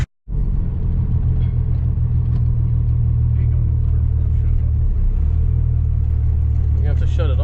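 A diesel drag truck engine idles with a loud, steady low rumble after a brief silent start, running continuously at close range with faint voices in the background.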